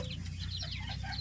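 A country hen clucks softly among her active young chicks, faint chirps and clucks scattered over a steady low background hum, close by and without talk.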